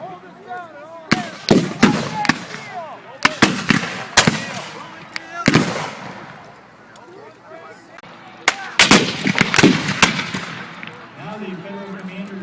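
Musket volleys at a Civil War reenactment battle in Greenfield Village: repeated sharp, loud cracks in irregular bursts, some clustered close together, with a lull midway, and a voice talking in the background between shots.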